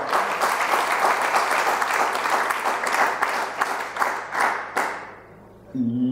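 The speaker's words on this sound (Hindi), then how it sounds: "तालियां बजाओ।" An audience at a speech breaks into loud, sustained applause with dense overlapping claps and a few sharper individual claps, tapering off near the end before a voice returns.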